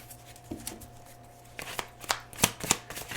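Oracle cards from a Soulmate Edition deck by Pretty Spirits being shuffled by hand, a soft run of papery riffles that turns into sharper, louder flicks and snaps toward the end, close and with no talk.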